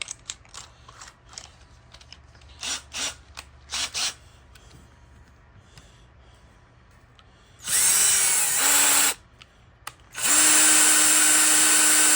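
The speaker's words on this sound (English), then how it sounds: "Fits into a standard drill." An electric drill whirs in two sustained bursts of several seconds each, loud and close, after a few short clicks and taps of handling, while cleaning guitar pickups on a Tune-o-matic bridge.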